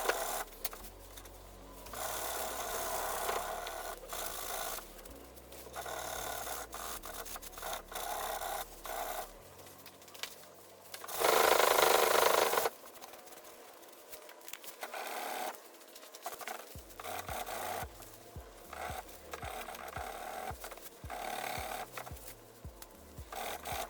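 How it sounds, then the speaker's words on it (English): Sandpaper shapes mahogany trim during a furniture flip with a green wash finish, giving continuous close scratchy rubbing with shifting strokes and a brief louder burst in the middle. "I am going to just give it a nice shape with some sandpaper"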